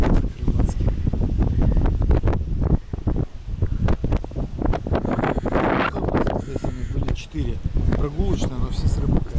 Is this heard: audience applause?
no